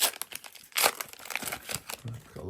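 Crinkly plastic wrapper of a special-series surprise pack being torn open, rapid close crackling and rustling bursts over about two and a half seconds, with brief voices underneath.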